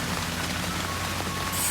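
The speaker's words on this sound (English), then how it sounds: "It's been raining pretty bad for the past 4 hours." Heavy rain pours down at a lakeside campsite at Lake Anna State Park in Virginia, a dense, loud, continuous hiss of drops drumming on surfaces.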